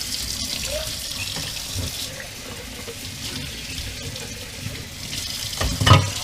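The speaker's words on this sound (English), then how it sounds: "we can wash the dishes just a little bit, super quick" Dishes being washed by hand at a kitchen sink under a running tap, steady splashing water with a few clinks and a louder knock of crockery near the end.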